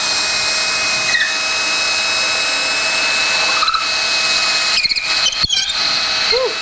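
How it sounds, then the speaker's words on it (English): A power drill runs continuously while boring into a fixture for an acoustic guitar neck joint in a workshop, a loud, close, steady whine with a few brief bumps, squeals and dips in load near the end. "So my next steps are going to be to, I guess, drill it out."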